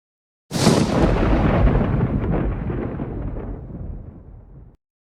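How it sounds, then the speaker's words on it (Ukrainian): A single loud thunderclap from a thunderstorm bursts suddenly and rolls away into a long, fading rumble lasting a few seconds. "Це звуки грози молнии."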